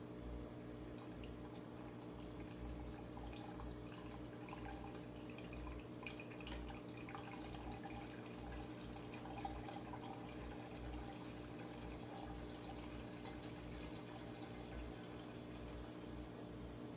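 Water pours and trickles into an aquarium tank during a CO2 system setup, a continuous soft splashing and dripping with a steady low pump-like hum underneath.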